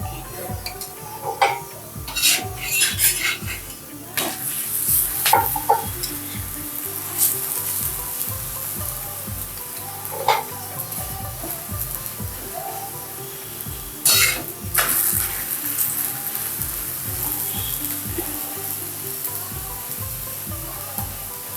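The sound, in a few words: rajma paratha roasting in ghee on a pan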